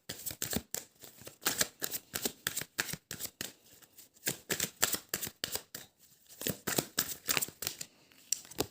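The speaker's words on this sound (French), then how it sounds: "Je vais remettre quelques cartes sur ce 7 d'épée" Tarot cards being shuffled and laid out, a rapid series of crisp riffling snaps and soft slaps in irregular bursts, close and fairly quiet, with no talking.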